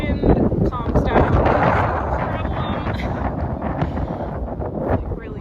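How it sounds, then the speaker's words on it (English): Strong wind gusting outdoors in a garden, roaring and buffeting the microphone continuously, loud and close throughout with bursts of heavier gusts. "It's like really gusting right now"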